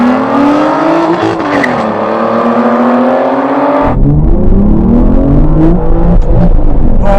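Aston Martin Valkyrie, Vanquish and V12 Vantage cars accelerate hard in a drag race, engines revving loudly and close with rising pitch. An abrupt shift cuts in midway, then the engines climb again with gear changes and nobody speaks.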